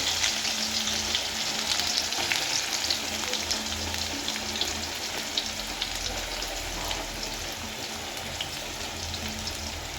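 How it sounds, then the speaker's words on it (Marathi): Green chili, onion and curry leaves sautéing in hot oil for a lentil dal: a dense, even sizzle and crackle that carries on steadily throughout at close range, with no speech. "कढीपत्ता टाकला आणि हे छानपैकी असे परतून घ्यायचे आहे"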